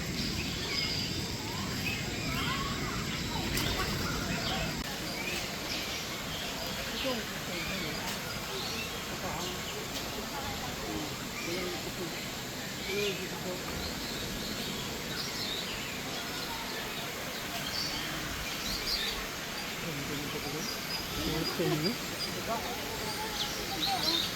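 Faint bird calls and chirps come from an aviary at Bird Paradise, a large bird park in Singapore, scattered through a quiet, noisy background while people talk nearby.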